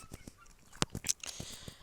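Older turkeys on a Ukrainian farm give short, scattered gobbling and honking calls, fairly faint and close, with brief gaps between them.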